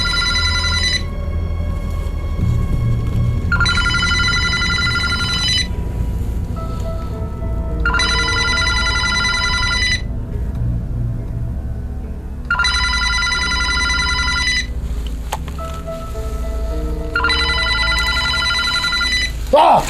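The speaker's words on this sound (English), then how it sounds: "That's a digital phone." A digital phone off its jack rings in repeated electronic bursts of about two seconds each, separated by short pauses, loud and close over a steady low background hum.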